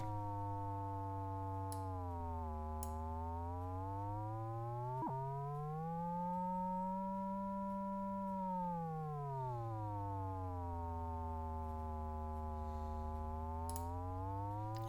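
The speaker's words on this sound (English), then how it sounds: "a really basic sine wave" A basic sine wave from the Arturia ARP 2600-V software synth, a pure steady tone whose pitch glides down, rises slowly, then sweeps back down, with a brief click partway through.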